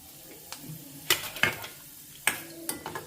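Spice tempering sizzles in a pan with onions, a quiet frying hiss broken by several sharp clinks and scrapes of a stirring spoon against the pan.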